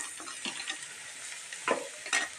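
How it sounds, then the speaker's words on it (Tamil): Onions with a little turmeric sizzle steadily in a hot pan while a utensil stirs them, producing a few soft scraping clinks over the constant frying hiss. "நல்லா ஃப்ரை பண்ணிக்கலாம்"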